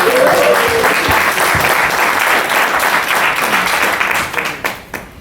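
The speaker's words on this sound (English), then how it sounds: "let's cheer him on" Guests at a 70th birthday party applaud loudly and continuously in a close, dense burst, with a voice briefly heard at the start, before the clapping thins and fades out near the end.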